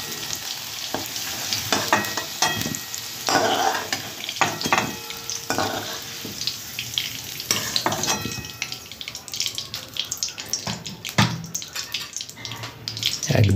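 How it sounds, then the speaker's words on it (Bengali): Potato and taro pieces fry in a pan with a loud, continuous crackling sizzle and busy, repeated scraping and clattering of a spatula as they are turned over and over. "আলু আর মুখি কচুটা এইভাবে ভেজে নেবেন আপনারা।"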